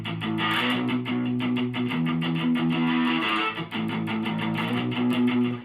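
Distorted electric guitar plays a riff, steady palm-muted chugging power chords in a continuous loud rhythm with no talking.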